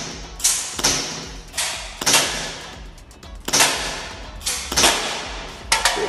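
A CO2-powered 1911 airsoft pistol fires at a soda can, giving about nine sharp cracks with hollow thuds in an uneven rhythm, loud and close with brief quiet between shots.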